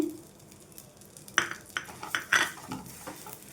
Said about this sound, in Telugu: ఈ గోధుమ రవ్వను కూడా మంచిగా వేయించుకోవాలి ఇది కూడా మంచి గోల్డెన్ కలర్ వచ్చేంత వరకు వేయించుకోవాలండి